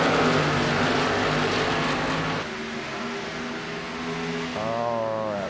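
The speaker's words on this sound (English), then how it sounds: "Make sure you got good car sound." Stock car racing engines on the Milwaukee track roar loudly and continuously, a steady engine drone with a pitch shift midway and a rising whine near the end as a car passes close.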